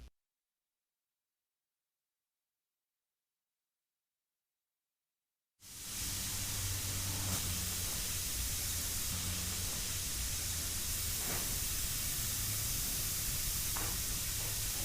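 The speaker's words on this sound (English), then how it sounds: "again spraying heavier along the outer edges" A spray gun applies tangerine orange candy paint thinned with reducer over a clear intercoat on a custom flame paint job. After several seconds of silence, a steady close hiss starts and runs on evenly.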